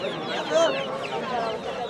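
Native chickens clucking at a rural riverbank market, several birds close by in short overlapping clucks and calls amid crowd murmur.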